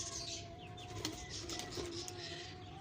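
Fancy pigeons in a loft with hens sitting on eggs and young birds about, giving soft low coos under a steady background hum, with faint wing flutters and chirps mixed in.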